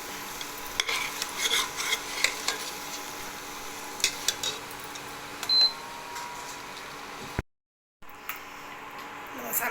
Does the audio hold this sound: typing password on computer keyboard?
no